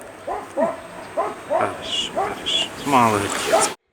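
A dog barks and yips several times in short bursts at a mobile vaccination point, with people speaking nearby and some whimpering between barks.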